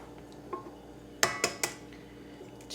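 Eggs cracked against a cake mix bowl produce a few sharp, close taps and clinks, three quick knocks clustered together amid light kitchen handling noise.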